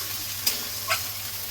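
Spice paste frying in oil for Bengali shukto, a soft continuous sizzle with two brief stirring scrapes close by.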